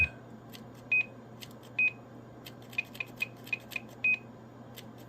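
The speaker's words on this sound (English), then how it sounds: "then you'll hear the Roger beep through the speaker" Short electronic roger beep tones from a K-PO DX 5000 Plus radio amplifier chirp through a speaker at irregular intervals over a quiet, steady background hum, some in quick pairs, each one brief and clear.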